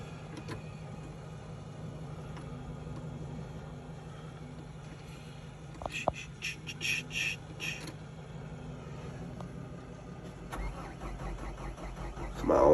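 A Peugeot 308 idles and warms up on a chilly morning around freezing, a steady low engine hum running throughout with some clicks and brief mechanical noises, and a louder surge near the end.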